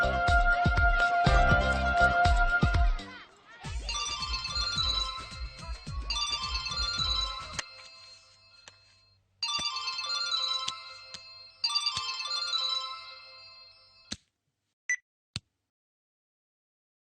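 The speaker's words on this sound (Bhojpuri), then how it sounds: "हम अपन पापा के फोन करके बुला लाई" A mobile phone plays a loud melodic ringtone in repeated phrases with short pauses, then a few sharp beeps, before the call is answered.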